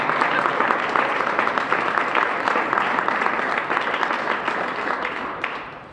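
An audience at a mayoral press announcement applauds steadily for several seconds, a dense close wash of clapping that fades slightly at the end.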